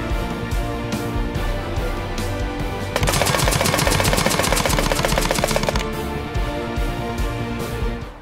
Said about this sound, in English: We're gonna put fully auto, 50 yards downrange, see what kind of group we can hold together